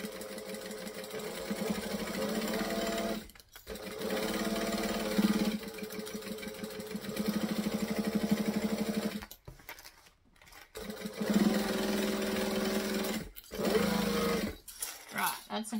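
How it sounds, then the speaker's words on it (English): A sewing machine runs in steady bursts while stitching around the edge of a sewing project, its motor hum and needle rattle close and loud, stopping briefly between runs; a person talks over it. "So now we're going to stitch all the way around."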